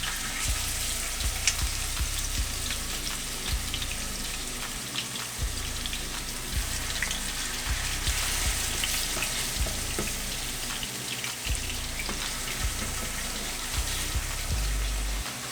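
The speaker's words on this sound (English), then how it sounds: "Now them burgers be popping." Hamburger steaks fry in hot grease, a steady, loud sizzle with frequent popping and crackling bursts running throughout, close up with no talking.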